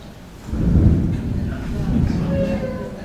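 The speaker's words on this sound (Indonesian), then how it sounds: "Itu baru hujan" Thunder rumbles in a low, heavy roll during rain, swelling early and then fading into a lingering grumble, with faint background voices under it.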